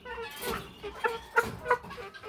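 Naked neck chickens on a small farm give a few short, fairly faint clucks, spaced about a third of a second apart, over soft background noise.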